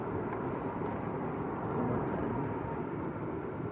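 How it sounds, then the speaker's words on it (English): A Ryanair airliner on the runway at Lanzarote Arrecife airport just after landing, its reverse thrust a distant, steady broadband roar that holds level throughout with no voices. "That's that Ryanair that just landed, still on the reverses."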